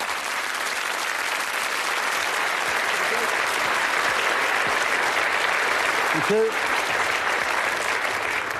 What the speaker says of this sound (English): It's lovely applause there